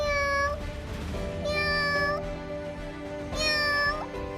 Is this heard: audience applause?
no